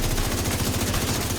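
The Lexington light machine gun fires in The Division 2: a rapid, steady stream of close, loud automatic shots in an even rhythm, heard alone without a break.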